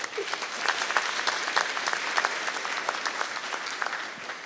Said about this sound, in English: Go ahead, give him a clap, guys.